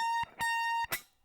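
Two short electric guitar notes from a theme song, each ringing briefly before being choked off, separated by scratchy pick and string noise; quiet and close.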